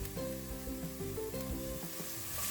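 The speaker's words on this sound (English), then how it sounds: "I'm gonna stir fry a little" Onion and carrots stir-frying in a pan, a dense steady sizzle with soft scraping and shuffling of the vegetables, close and continuous, with a low tonal hum running underneath.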